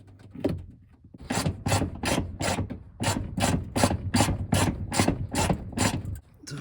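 A ratchet with a wobble socket and wobble extension works a bolt on a 2003 Honda Element. About a dozen sharp, evenly spaced ratcheting clicks sound up close, with a brief pause before they resume.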